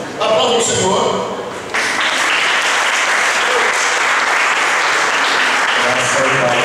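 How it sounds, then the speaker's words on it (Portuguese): Loud, dense applause fills a church service, a broad sustained wash of clapping from a congregation that dips briefly near the start, then swells again and holds steady to the end, with no talk over it. "Aplauda o Senhor."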